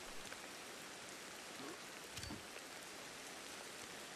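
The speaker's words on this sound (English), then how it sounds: "In the rain." Steady, even hiss of rain falling in a video game jungle where a monkey tribe faces crocodiles, a constant wash of drops heard alone with no voices.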